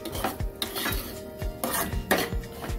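Semolina fries in ghee in a pan for kesari bath, a sweet sheera dish, with a spoon scraping and clinking against the metal in a steady stirring rhythm over a soft sizzle, close by, with no talk.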